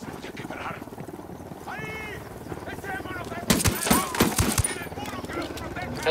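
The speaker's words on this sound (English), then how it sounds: "Helicopter incoming." A helicopter approaches during a firefight in the Ghost Recon Wildlands video game, its rotor drone building under bursts of gunfire and clattering effects as a voice speaks over the din.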